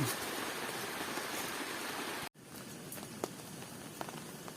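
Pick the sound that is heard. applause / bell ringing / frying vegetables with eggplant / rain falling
rain falling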